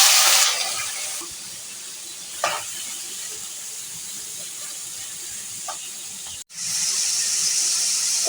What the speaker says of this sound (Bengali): এখানে গাজরটাকে লম্বা লম্বা করে কেটে কুচি করে নিয়েছি। এখন ঘিতে ভেজে নেব।